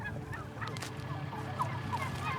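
A flock of farm turkeys being rounded up the week before Thanksgiving, calling and gobbling in a steady overlapping chorus at moderate distance over a continuous background murmur.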